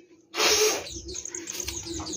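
Baby bird chicks in a nest give a loud burst of high chirping, then keep up faint, scattered tweets over a low background hum.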